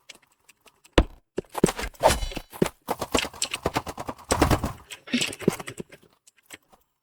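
AR rifle fire from the Roblox Rivals video game comes as rapid, uneven bursts of sharp shots mixed with other game effects, loud and close over several seconds.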